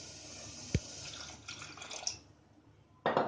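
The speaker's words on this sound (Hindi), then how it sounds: "और इसमें थोड़ा सा पानी डालेंगे।" A little water goes into a pressure cooker holding pineapple pieces for kesari halwa: a soft, steady pour and trickle with one sharp knock near the start and a louder splash at the end, close by.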